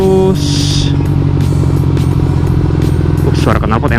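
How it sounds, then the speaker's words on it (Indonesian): A Suzuki GSX motorcycle with a lowering kit: its exhaust rumbles steadily and loudly up close, a deep throbbing drone throughout, with a brief rise in pitch near the end. "suara knalpot enak ya"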